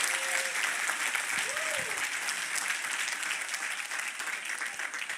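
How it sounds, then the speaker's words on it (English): Audience at an interview event applauds in a sustained, fairly even round of clapping from a sizeable crowd, with a voice briefly speaking over it early on. "Give him a clap."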